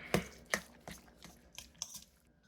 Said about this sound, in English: We're just going to mix all this together.